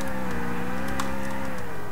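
Cars in GTA IV, a steady engine drone with a faint rising pitch, loud and continuous for a brief moment with no voices.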